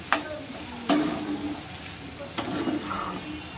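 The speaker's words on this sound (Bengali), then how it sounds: "এবার এইটা ডিমটা আস্তে আস্তে মিশাতে হবে, যেহেতু এতে নারকেল বাটা দিয়েছি" Egg mixed with ground coconut paste being stirred in a frying pan, a few distinct scraping strokes over a soft, continuous sizzle, close by and with no speech.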